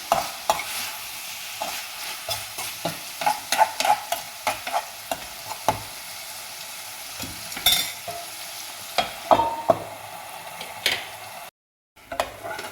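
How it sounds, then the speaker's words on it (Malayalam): Prawn thoran cooking in a pan is stirred again and again, a low sizzle under frequent clattering scrapes and knocks of the spoon on the pan, close and without voices, with a short silent gap near the end. "നന്നായിട്ട് ഇളക്കിയിട്ട് വീണ്ടും അടച്ചു വെച്ച് നമുക്ക് വേവിക്കാം."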